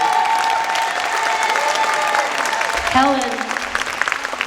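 An audience at a Queens Museum community event in New York applauds for Helen Kim, a dense wash of clapping that carries through the whole stretch, with a speaker's voice over it at the start.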